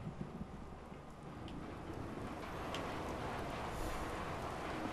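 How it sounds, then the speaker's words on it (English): Steady rain in the video game Fallout 4, a continuous hiss of falling water with a faint low rumble underneath, even and unbroken throughout with no voices. "Hope this rain lets up soon."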